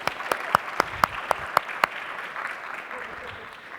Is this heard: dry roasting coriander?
no